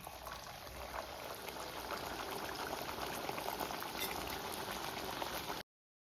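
Naan fries in hot oil in a wok, giving a dense, steady sizzle and bubbling that holds evenly at close range before stopping abruptly near the end.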